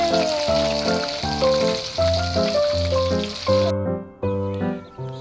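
Lechon kawali pork frying in a pan gives a steady sizzle beneath a louder rhythmic melody of music that plays across the whole stretch.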